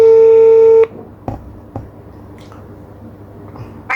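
Telephone keypad dialing tones for a live phone interview on a Thai broadcast: a steady electronic tone sounding loud and alone for under a second, then faint clicks and low background hum.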